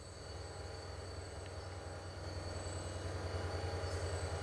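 A continuous low rumble of trains rolling along in the video game Transport Fever 2, with faint steady tones on top, moderately quiet and gradually getting a little louder.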